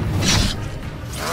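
Depulso and Confringo spells cast in the Hogwarts Legacy video game: a loud, close whooshing burst followed by a rumbling magical blast and a fading airy tail, with no talking.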